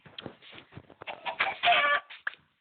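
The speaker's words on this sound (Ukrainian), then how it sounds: "Ну, курочка. Іди до мене." Chicken clucking in a survival video game set on an island, a series of short, close, chattering clucks over about two seconds, loudest near the middle, with no talk.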